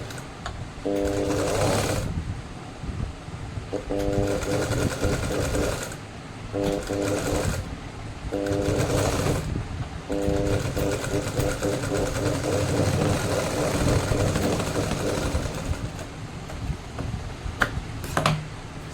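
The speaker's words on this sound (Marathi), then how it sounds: "सो हे बघा, आता आपण दुसऱ्या साईडला पण शिवून घेऊया." Sewing machine stitching the back of a blouse, close and steady, running in several short bursts separated by brief pauses, then a longer continuous run.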